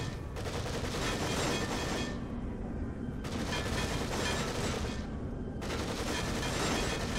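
Shotgun fire in The Evil Within, with the shotgun being upgraded: dense, loud continuous roaring bursts in three long stretches separated by short dips, no talking.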